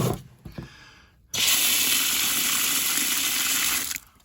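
Water pours from a container into a mud mix for a homemade deer attractant, a loud steady gushing splash lasting about three seconds after a few quiet handling knocks, then stopping abruptly.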